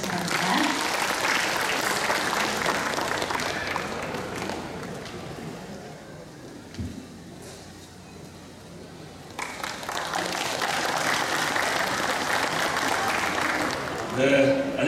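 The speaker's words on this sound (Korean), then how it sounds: "큰 박수로 맞이해 주시기 바랍니다." Audience applause welcoming the mayor of Namyangju at the Bongseonsa temple lotus festival, a broad, steady clapping that runs throughout, dips briefly in the middle, then swells again strongly toward the end.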